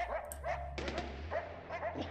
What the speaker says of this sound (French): ils jappent après moi